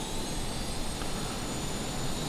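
An F-18 jet engine spooling up to full throttle for takeoff in Microsoft Flight Simulator 2020, a steady loud roar with a high whine, continuous and alone.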